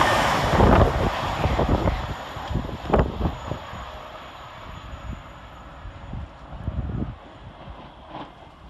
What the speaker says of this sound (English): right on his heels is 800-204, working 1 Alpha 22 for LNER from Harrogate to London King's Cross